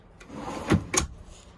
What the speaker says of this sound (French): Donc ici, on a un grand tiroir de rangement.